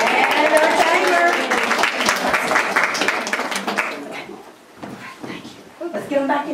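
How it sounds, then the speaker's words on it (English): Audience applause for an elephant act and its tamer, steady clapping, fairly loud and continuous at first, then fading into scattered claps and murmuring voices. "Let's hear a round of applause for our elephant and our tamer."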